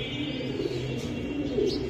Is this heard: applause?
no